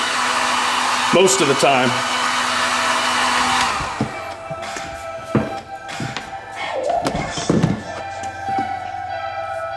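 Heat gun blowing with a steady loud roar for about four seconds, then switched off, followed by scattered thumps, taps and handling noises; a voice speaks briefly.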